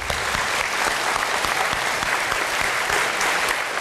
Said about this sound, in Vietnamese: đây cũng là một tràng vỗ tay thật lớn cho sự dũng cảm và bản lĩnh của Nguyên Sơn